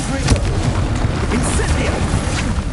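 Expulso explosion spell cast in the Hogwarts Legacy video game on PS5, a dense booming blast with rumbling low end, loud and continuous, with a voice shouting over the combat noise.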